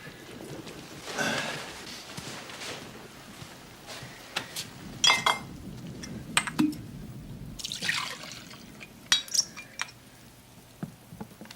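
Whiskey is poured into a glass with no ice, a soft liquid trickle with occasional glassy clinks and small knocks, close but fairly quiet against light room noise.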